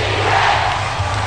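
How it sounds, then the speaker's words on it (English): Capacity crowd at a PBA basketball finals game between San Mig Coffee and Talk 'N Text, a continuous loud roar of cheering spectators filling the arena with a low hum underneath. "This capacity crowd enjoying every bit of action."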